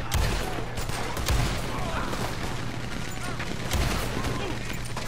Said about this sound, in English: So they have a Gatling gun, bro.